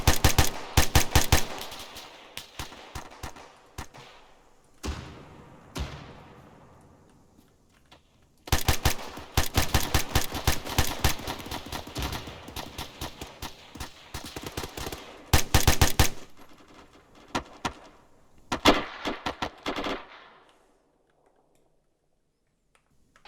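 Rapid machine gun fire during a military section ambush training exercise outdoors: loud, close bursts of automatic fire come in several strings with short gaps and echoing tails, then fall silent at the end.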